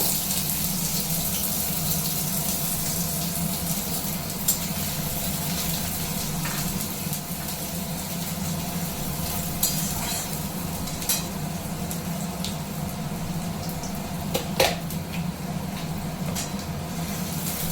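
Two medium onions, finely chopped, fry in hot oil with a steady close sizzle throughout, broken by occasional clinks and scrapes of a spoon stirring the pan.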